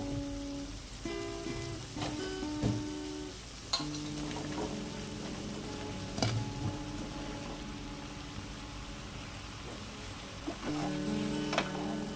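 Cut ridge gourd dropped into spice paste frying in oil, a continuous soft sizzle like light rain under intermittent spoon knocks and scrapes against the pan, with tonal clinks and hums in the background, close but fairly quiet.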